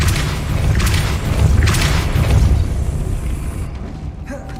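Depulso spell cast in the game Hogwarts Legacy, a loud booming blast with a rumbling low roar that holds for a few seconds before cutting off into a quieter magical shimmer.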